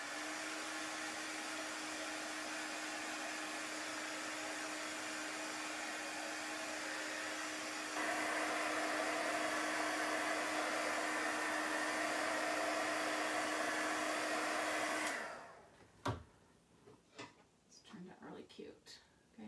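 A hair dryer blowing on a Chalk Couture craft project gives a steady, loud whir that rises a little halfway through, then cuts off after about fifteen seconds, leaving faint handling clicks and rustles.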